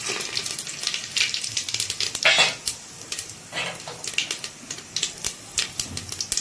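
Whole spices crackle and spit in hot mustard oil for a Bihari-style mutton curry, with bursts of sharp popping and sizzling, close and fairly loud, alongside a few light utensil clinks.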